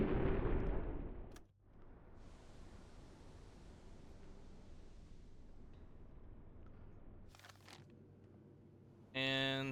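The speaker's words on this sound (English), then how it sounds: "And torpedo 1 has left the tube." A torpedo is launched from the tube of a Type VII U-boat, U-48, in the UBOAT game: a loud initial burst, then a long hissing rush with a few sharp clanks and a final mechanical buzz.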